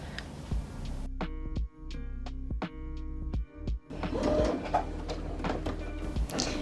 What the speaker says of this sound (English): So now I'm sewing the shoulder straps with 1 centimeter seam allowance.